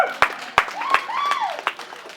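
A small audience clapping at a Portland mayoral debate, sparse and scattered claps around a voice, fairly near and brief.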